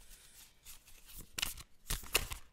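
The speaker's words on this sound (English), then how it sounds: "I'm going to shuffle this other tarot" A deck of tarot cards being shuffled by hand, with several quick riffling bursts of papery rustle, close and fairly soft, and short pauses between them.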